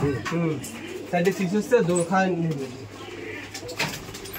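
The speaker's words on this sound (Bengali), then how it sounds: "সব থেকে রেয়ার কালার কবুতর এবং সব থেকে রেয়ার কবুতর এটা" Pigeons coo in soft, rolling calls at a farm holding about sixty pairs of birds, heard close by while a person speaks alongside.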